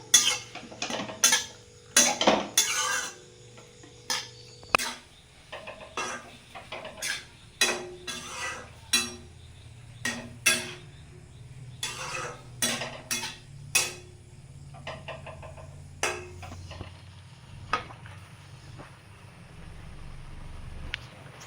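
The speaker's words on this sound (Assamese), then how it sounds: "আৰু এতিয়া ভালদৰে লৰাই দিছোঁ।" Jaggery and salt being stirred into a pickle mixture in a metal pot, giving repeated sharp scraping and clinking strokes at an uneven rhythm, close and fairly quiet, with a low background hum.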